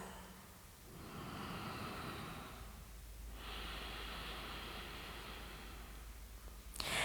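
Slow, steady breathing during a seated yoga hamstring stretch, with two long airy breaths drawn close to the microphone and a brief rustle at the end.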